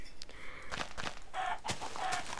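Chickens clucking in a video game, a few short squawky clucks and calls scattered across a brief stretch over a busy game soundscape, close and moderately loud, with no talk.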